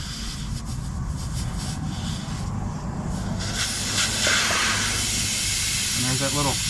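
Air hissing out of a tire valve stem as its valve core is unscrewed, a sustained loud hiss that swells toward the end, with a voice talking over part of it.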